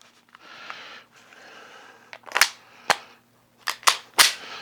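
Five or six sharp unsuppressed pistol shots firing 124 grain ZQI full metal jacket rounds, loud and close, spaced irregularly over a low steady background hum, with no talk.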